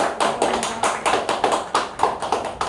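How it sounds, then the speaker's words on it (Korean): A church congregation claps in thanks after a talk on the Lord's Prayer, a short burst of close, fairly loud hand claps with uneven rhythm and no voices over it. "박수로 한번 감사드립니다."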